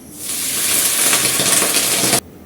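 Water poured into a hot kadai of oil with browned onions, a loud, steady sizzle bursting up at once and hissing continuously for about two seconds before cutting off abruptly.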